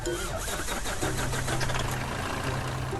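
An American-style truck's engine in the mobile game Truck Simulator USA Revolution runs with a rough, steady mechanical drone. A low humming tone settles in after the first second, with no talking.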